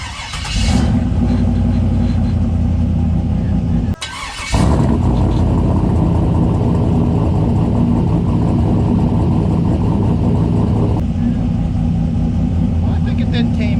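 Turbocharged CUCV truck engine idling with a newly welded-in race muffler, a loud, steady low rumble lasting throughout, briefly cutting out once before resuming.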